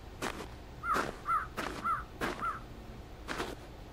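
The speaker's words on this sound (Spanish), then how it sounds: "Hay un cuervo por acá." Crow cawing in the survival game Northern Lights, a series of about five to six clear, evenly spaced caws, moderately near over a quiet background with no talking.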